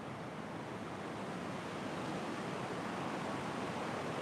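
A swollen river rushes through Gudvangen, a dense, steady roar of churning water that fills the whole stretch evenly with no pauses or voices.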